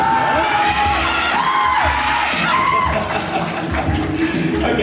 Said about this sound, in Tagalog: yan na ba yung pinakamalakas yung palakpak para sa kanya?